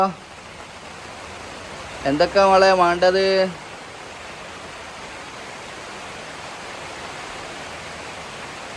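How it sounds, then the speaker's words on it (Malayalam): Heavy rain pours down in a dense, unbroken roar that lasts the whole stretch, while a person speaks briefly over it. "നല്ല മഴയാണ് കേട്ടോ മഴ പിന്നെയും തുടങ്ങി"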